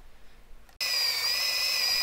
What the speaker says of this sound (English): Here we're drilling for the top hook of the gate that will be under tension when it's mounted.